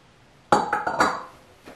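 A mixing bowl, likely glass, set down on a counter while chocolate mousse is made, giving a sharp clinking knock followed by a few quick rattling clinks that die away, then a faint tap.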